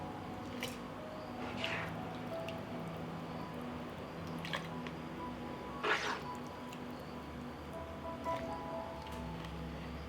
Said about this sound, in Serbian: I papriku sipam u tegle koje sam sterilisala u rerni